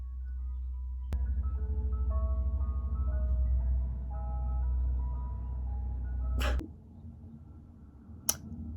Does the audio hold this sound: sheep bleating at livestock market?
no